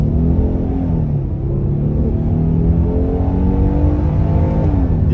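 A 2022 Hyundai Palisade Calligraphy SUV accelerates in sport mode, its engine droning steadily and rising gradually in pitch, loud and heard from inside the cabin with no voices.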